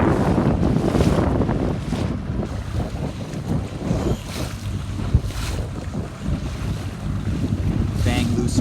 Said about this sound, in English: The wind is back on.